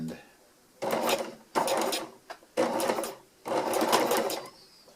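A sewing machine stitches a hex tarp in four fast bursts with short pauses between runs, loud and close, with no talking.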